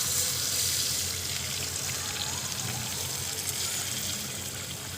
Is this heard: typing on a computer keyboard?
no